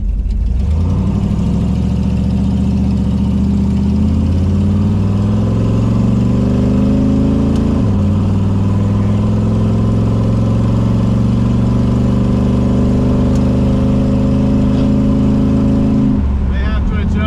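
Rebuilt 1968 Dodge Charger R/T engine running, a loud deep steady drone with a rising pitch early on, a brief dip near the middle, then holding steady until it cuts off near the end; someone speaks over it.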